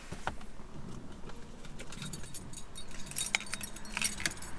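Car keys for a 2006 Mustang GT jangle and clink in short metallic bursts close by, scattered over a few seconds against a quiet background.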